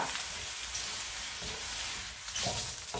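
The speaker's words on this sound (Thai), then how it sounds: "เอาหัวกุ้งลองมาคั่ว" Fresh, cleaned shrimp heads dry-roast in a pan for homemade shrimp oil, a dense steady crackling sizzle that swells briefly near the end, no voices.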